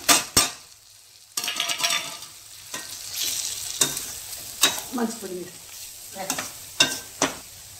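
Coriander powder and coconut sautéed and stirred in a pan for thengai kulambu, a soft sizzle under repeated scraping and clinking of a spoon against the pan, with sharp knocks at intervals.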